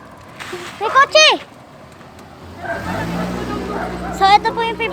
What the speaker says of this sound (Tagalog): Oh, kotse! May kotse!